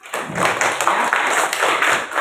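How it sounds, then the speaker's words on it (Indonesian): A classroom group in an Indonesian teacher-training lesson claps together in a quick, regular rhythm, a series of sharp, close hand claps that runs evenly through the whole short stretch. "boleh tepuk tangan"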